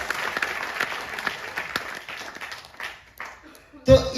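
Audience applause in a seminar hall, a crowd clapping in a scattered patter that fades out, then a short loud burst near the end, with voices mixed in.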